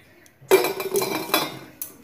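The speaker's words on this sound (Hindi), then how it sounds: "देखिए मैं पनीर भी डाल दूंगी।" Paneer cubes for palak paneer dropped into a metal pan, giving a few distinct clattering clinks and knocks spread over two seconds, close and fairly loud against a quiet background.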